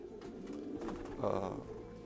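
Pigeons coo softly in a loft or coop in spring, with low, rounded calls that rise to a louder burst near the middle and sit under faint background noise.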